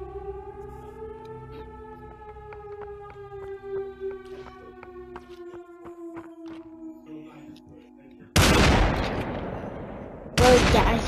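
Gunshots in the VR game Population: One come as two sharp, loud bursts a couple of seconds apart, cutting through a wavering siren-like tone that drones beforehand.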